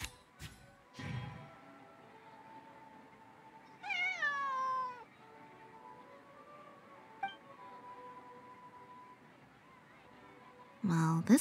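In Genshin Impact, a cat gives one clear, drawn-out meow over soft game music, with a few light clinks nearby and a shorter cry near the end.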